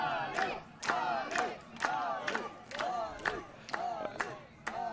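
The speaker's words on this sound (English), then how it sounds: "The Alex Razumor section applauding his sub onto the field." A supporters' section in the stands at a Masters 35+ soccer match between the USA and Israel greets a substitute coming on. It gives loud, rhythmic cheering in repeated vocal bursts about every half second, with a steady crowd roar underneath.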